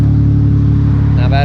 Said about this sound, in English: Here's the inside cabin exhaust sound after doing the rear muffler delete on my 18 Dodge Charger GT.